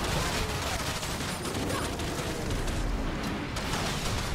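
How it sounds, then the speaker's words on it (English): Dense video-game gunfire forms a continuous, loud wall of overlapping shots and bursts, with rapid crackling fire blending into a constant roar. "Everyone is shooting."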